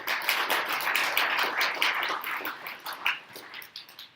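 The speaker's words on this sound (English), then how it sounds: "yourselves a round of applause." A round of applause at a leadership conference event, scattered clapping from a room of people, fairly close and moderately loud, tapering slightly toward the end.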